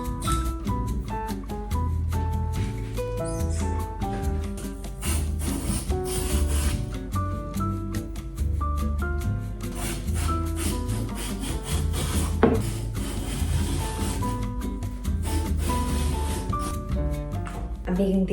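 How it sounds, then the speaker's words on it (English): A knife slices cucumbers into thin slices on a board, giving repeated scraping, rubbing cuts under steady background music. "we need to cut the cucumbers into thin slices"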